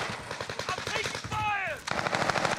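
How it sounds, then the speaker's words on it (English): Machine gun fire in the Rebirth Island video game: rapid, loud bursts of automatic shots in a fast rhythm, broken briefly by a whooshing sweep before the firing resumes. "taking fire. I'm right next to him somehow."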